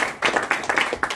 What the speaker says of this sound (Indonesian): Tepuk tangan untuk TSK.